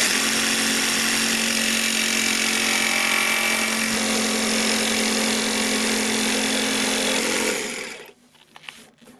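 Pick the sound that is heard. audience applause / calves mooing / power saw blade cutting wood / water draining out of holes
power saw blade cutting wood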